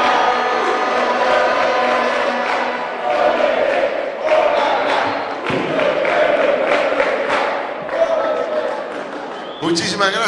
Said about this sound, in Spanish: Lo recibimos con fuerte, fuerte, fuerte, fuerte aplauso.